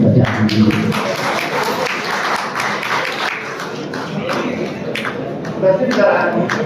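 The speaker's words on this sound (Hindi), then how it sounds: "बुजुर्ग शायर के लिए तालियों से" Audience applause for an elderly poet at a Malegaon evening gathering honouring senior poets, a steady wash of clapping running throughout with voices mixed in.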